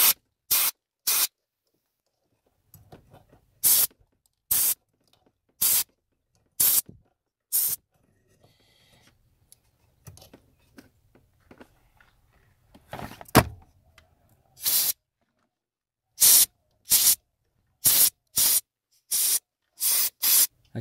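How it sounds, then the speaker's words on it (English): Compressed air hisses out of a nozzle in repeated sharp bursts, blowing debris from the steering coupler parts of a 2014 Kia Cadenza, with short gaps and some rubbing and handling noise between the close, loud blasts. "Got my compressed air."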